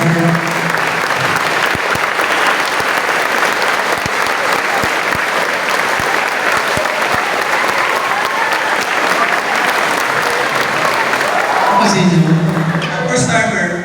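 Sustained applause from a crowd at a seminar-style talk on escaping poverty, a dense wash of clapping that runs steadily for most of the stretch, then thins near the end as voices come through.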